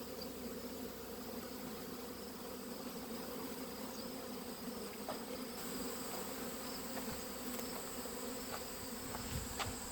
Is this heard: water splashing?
no